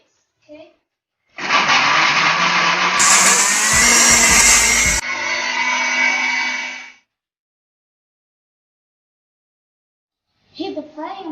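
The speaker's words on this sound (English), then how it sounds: "Then we blend and wait for about 2 minutes." A blender whirs loudly for several seconds, pitch rising briefly as it speeds up, then cuts off to silence before a voice begins.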